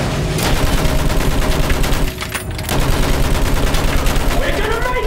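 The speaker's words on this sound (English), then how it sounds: "Fire at anything that moves!" Battlefield 1 campaign gunfire, dense loud volleys of rifle and machine-gun shots rattling continuously, pausing briefly mid-way before the barrage resumes, with a voice in the mix.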